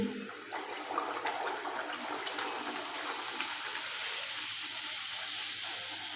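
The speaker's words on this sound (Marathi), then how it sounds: "इथे मी तेल चांगलं कडकडीत गरम करून घेतलेलं आहे त्याच्यामध्ये आता ही पुरी आहे ती टाकत आहे" Spicy puri dough frying in very hot oil gives a steady, soft sizzling hiss that runs continuously without pause.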